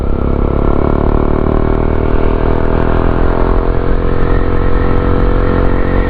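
A motorcycle engine runs loud and close on a Philippine roadside near Las Piñas, a steady droning rumble with a faint rising pitch throughout, and no voices over it.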